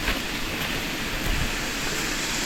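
Steady broadband rush of a waterfall in a hillside forest where bamboo shoots are gathered, continuous and fairly even throughout with no voices.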